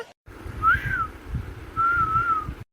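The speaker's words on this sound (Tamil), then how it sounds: "அக்கா நல்லா விசில் அடிச்சு கூப்பிடுறாங்கன்னு நினைக்கிறேன்க்கா" A person whistles to call someone outdoors, giving two clear, rising-and-falling whistle notes separated by a short pause, heard over faint background noise and no speech.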